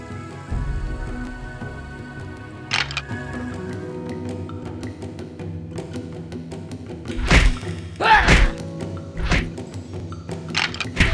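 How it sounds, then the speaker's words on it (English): Attacks on a training dummy in Dinotopia: The Sunstone Odyssey video game land as a series of sharp thuds and whooshing strikes, bunched into a cluster of hits, alongside game music and a voice. "Approach the training dummy and attack it."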